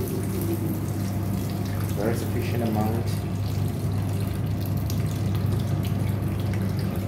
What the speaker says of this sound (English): So we have a distiller machine here. We produce distilled water,